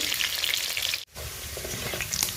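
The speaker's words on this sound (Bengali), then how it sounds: "এই যে বড় বড় সাইজের কেটে রাখা আলুগুলো এখন ভেজে নেব" Large-cut potatoes fry with salt and turmeric in hot oil with a busy, crackling sizzle close by, broken by a split-second gap before it resumes.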